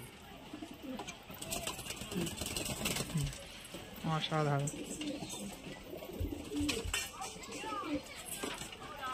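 Pigeons coo repeatedly at close range among fancy breeds such as Chabga, Kala Sobuj and Laljira pigeons, with soft rolling calls rising above steady background chatter while people talk over them.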